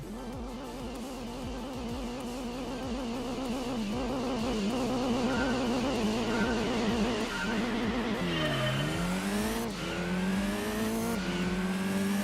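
A bone-stock Ford Escort rally car in Gran Turismo 2 revs hard through the gears with wavering engine pitch, then tires squeal and the engine drops and climbs again through a shift, loud and close throughout.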